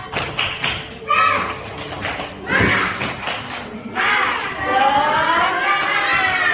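Schoolchildren chant in unison in a classroom, punctuating the words with a few sharp claps and thumps, the group voices loud and close throughout.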